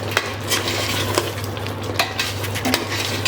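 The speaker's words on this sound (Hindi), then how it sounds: "ये देखिए मैं इसे भून रही हूँ" Lightly cleaned mutton with bitter gourd frying in a pan, with a low sizzle under repeated clinks and scrapes of a spatula stirring against the metal.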